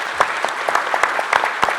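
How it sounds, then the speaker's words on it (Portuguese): A short burst of applause from a seated audience at a solar energy industry conference panel, scattered distinct claps over a lighter patter, close and moderately loud. "pedir uma salva de palmas aqui para os nossos palestrantes"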